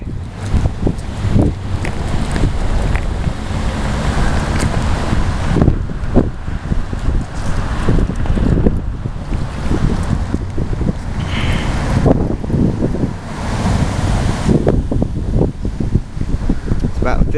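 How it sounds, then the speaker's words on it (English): Strong gusty wind buffets the microphone on a cold May day in Mena, Arkansas, roaring and rumbling in uneven surges throughout, with a voice speaking beneath the noise. "We don't really have gusty winds like this too often"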